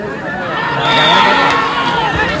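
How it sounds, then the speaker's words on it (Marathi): An outdoor crowd at a bullock cart race through water roars and cheers for the cart driver, a loud, dense wash of voices that swells in the middle and holds. "एकदा ड्रायव्हर साठी टाळ्या वाजवता का जमलेले सगळे"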